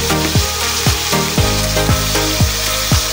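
Tomatoes hit a pan of sautéing bitter gourd (ampalaya) and sizzle loudly and steadily, with a run of regular clanking spatula strokes stirring through the frying, no voices.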